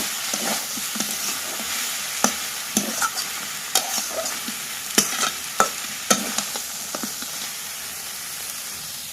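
Banana flower and crab fry in a pan with a steady sizzle, broken by repeated sharp stirring scrapes and clicks of a utensil against the pan, fairly close and with no talking.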